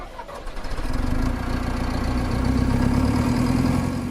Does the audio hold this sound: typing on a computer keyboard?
no